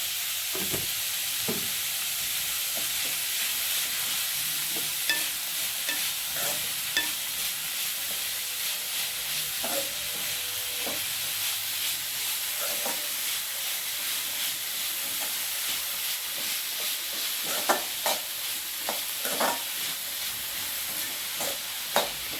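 Vegetables for a soup sauté lightly with salt in a pan, a constant soft sizzle and hiss running throughout, broken by frequent scraping and tapping strokes of a stirring spoon.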